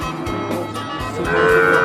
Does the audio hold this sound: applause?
no